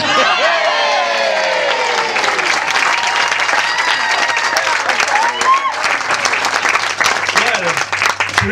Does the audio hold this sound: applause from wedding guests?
yes